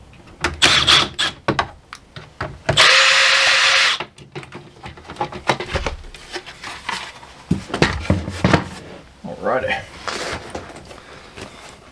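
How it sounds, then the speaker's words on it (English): Plastic and metal clatter as the cover is pulled off an RV power converter with a faulty DC output, with a loud rasping scrape in the middle and scattered knocks and rattles, under intermittent talk. "I'm gonna pull the cover off real quick so we can get to the guts of it."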